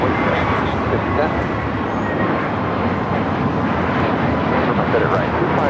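Heavy airliner departing a runway at LAX, a loud continuous broadband roar of jet engines with steady rumble and no clear breaks.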